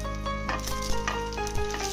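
Cashews and raisins fry in melted ghee for a vegetable pulao, a close, continuous crackling sizzle with small pops and a few stirring scrapes.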